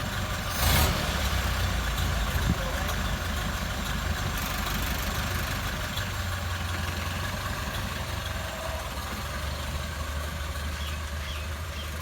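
A 1929 Ford Model A Roadster, a 95-year-old convertible, idles with a steady low rumbling engine drone, close and continuous, with a brief louder bump near the start and no talking.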